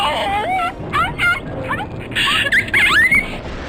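A puppy in the video game BioShock whimpers and yelps in a rapid string of high, wavering cries that rise and fall, close and fairly loud with no talk over them.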